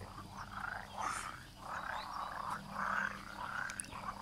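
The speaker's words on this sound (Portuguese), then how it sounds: "esse barulho todo é de sapo" A chorus of frogs croaks steadily in overlapping pulses in a Swiss village, moderately distant, with a low background hum and no talking.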